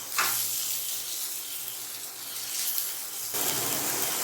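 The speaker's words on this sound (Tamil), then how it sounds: "பச்சை வாசனை போகிற வரையும் நல்லா வதக்கிக்கோங்க" Ginger-garlic paste sautéed in a hot pan for a spicy chapathi and poori kurma gives a loud, continuous close sizzle that briefly swells before settling to a steady hiss.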